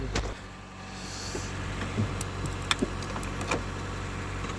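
A Japanese import car idles after a jump start with a steady low engine drone, heard close. A few faint clicks and ticks sit over it.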